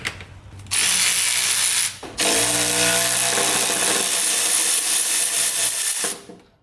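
An electric ratchet whirs in loud, sustained bursts while removing bolts on a Mazda RX7, two long runs separated by brief pauses, close and unaccompanied by talk.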